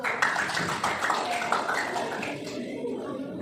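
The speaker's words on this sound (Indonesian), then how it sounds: "mari kita berikan aplaus untuk kelompok satu" A classroom group claps for the first group, a short burst of scattered applause with a few chuckles, fading out after a couple of seconds.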